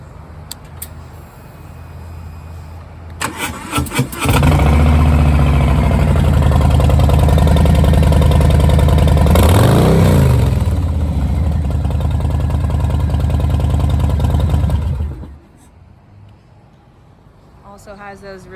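A 2018 Harley-Davidson Softail Low Rider with Vance & Hines exhaust pipes cranks and fires up, then settles into a loud, steady, throbbing idle with a brief rev before cutting off.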